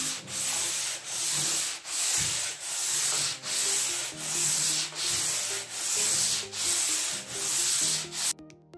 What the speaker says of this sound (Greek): Συνεχίζω πάλι με το γυαλό χαρτό μου, ελαφρύ τρίψιμο.